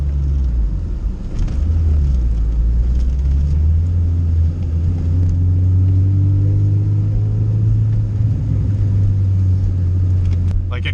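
A turbocharged Honda Civic Type R EK with A/C delete cruising and pulling through the gears, a loud low engine drone with rising tones as it accelerates, heard from inside the car.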